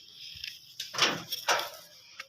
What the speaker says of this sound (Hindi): तो ये घर का दरवाज़ा नॉक कर रहे हैं।